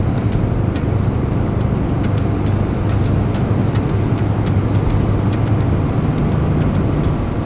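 A car drives along a road near Khao Yai, Thailand, with a loud, steady wash of engine and tyre rumble from inside the vehicle and no break in the noise.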